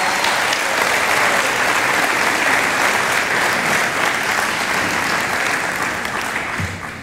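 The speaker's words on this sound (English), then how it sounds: "Can we give them a round of applause?" A church audience applauds to welcome two guests coming up front, a dense, steady roar of clapping that fills the room for about seven seconds before thinning slightly at the end.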